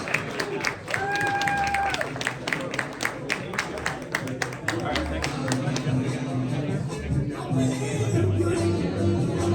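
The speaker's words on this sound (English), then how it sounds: "please give our candidates a round of applause" Audience applause for candidates at a New Jersey presidential forum, a broad round of clapping with some cheering and rumbling crowd noise beneath, sustained for nearly ten seconds with people talking over it.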